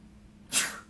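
A single sharp sneeze bursts out once in a quiet meeting room during a conservation commission meeting, close and brief against low background hum.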